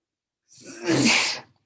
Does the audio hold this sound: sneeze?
yes